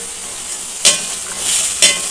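Potato pieces frying in oil with a steady broadband sizzle throughout, broken by two sharp stirring scrapes about a second apart, close and fairly loud with no talking.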